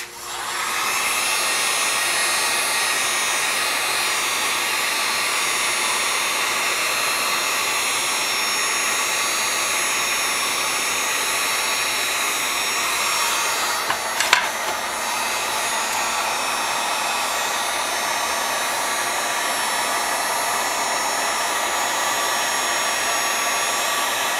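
Heat gun blowing hot air onto a clamped plastic strobist gel holder, a loud and steady whooshing hum that runs unbroken for the whole stretch, with one brief clatter midway.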